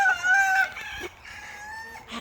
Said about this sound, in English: And then there's like wimpy chickens over there.